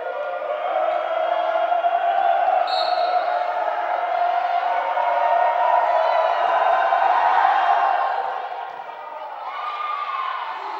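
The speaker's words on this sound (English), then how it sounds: "The crowd is going crazy today." A crowd at a Clarion versus Gannon college volleyball game roars steadily in a dense, sustained wash of cheering and shouting that swells and holds, then dips briefly near the end before picking back up.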